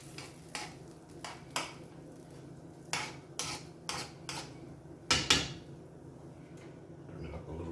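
Eggs being scrambled in a pan on the stove for chorizo and egg, heard as a run of sharp metallic utensil clinks and scrapes against the pan, roughly a dozen taps in uneven rhythm over a quiet background.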